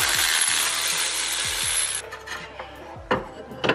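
A tool works loose a caliper axle nut, with a steady harsh rasping, grinding noise for about two seconds, followed by a few sharp metallic clanks and knocks close by.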